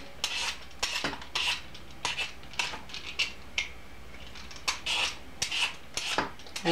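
Butternut squash being peeled with repeated rhythmic scraping strokes, each a short rasping swipe followed by a brief pause, close and fairly loud, no one speaking.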